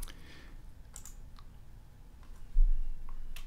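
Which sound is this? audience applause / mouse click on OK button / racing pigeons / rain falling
mouse click on OK button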